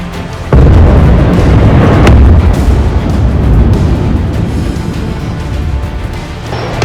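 A loud, deep boom of rocket explosions on the Thailand–Cambodia border hills bursts out, followed by a long rumbling roar and scattered cracks that persist for several seconds.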